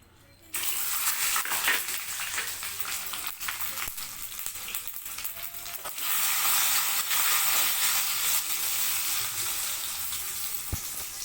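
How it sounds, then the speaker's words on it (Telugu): Tempering seeds, chillies, garlic, onions, curry leaves and coriander crackle and sizzle in hot oil for ridged gourd dal, a continuous close hiss with small pops that swells louder midway. "ఇప్పుడు తాలింపుకి రెడీ చేస్తున్నాను తాలింపు గింజలు ఎనిమిరపకాయలు తెల్లగడ్డలు అవి ఎర్రగడ్డలు కరివేపాకు కొత్తిమీర ఆయిల్ పెట్టేశాను"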